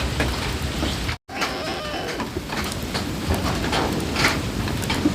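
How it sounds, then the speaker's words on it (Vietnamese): Steady rain falling on a cold day, a dense even patter with scattered drops close by, continuing alone without talk apart from one brief dropout. "Trời mưa và lạnh như vậy"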